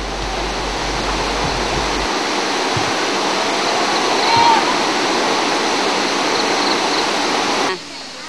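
A waterfall near Pakse, Laos roars as a steady, loud, broadband rush of falling water throughout, close and continuous, with faint voices beneath the noise.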